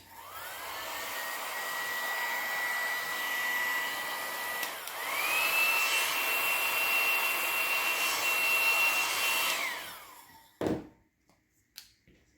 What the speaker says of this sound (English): I'll set that aside and blow dry.